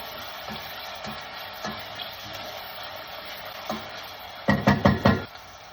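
Onions and garlic fry in olive oil over low to medium heat with a soft sizzle, punctuated by occasional spoon knocks and a quick burst of stirring scrapes near the end.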